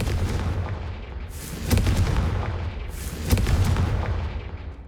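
In the Hogwarts Legacy video game, the Confringo blasting spell lets off two loud, booming fiery bursts about a second and a half apart, each with a rumbling roar and crackle.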